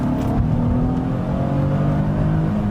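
A Nissan 350Z engine revs hard under throttle, a loud, steady, buzzy exhaust drone that holds high and continuous for about three seconds with no talking.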